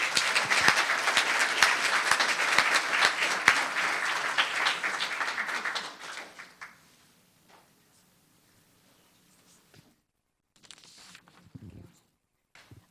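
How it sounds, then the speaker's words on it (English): Applause at a town council meeting in Los Gatos, a dense round of clapping that holds for about six seconds, then fades out, followed by quiet rustling and a few soft shuffles. "And we can clap for Cooper while he's shaking hands."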